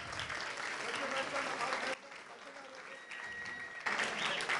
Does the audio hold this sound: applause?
yes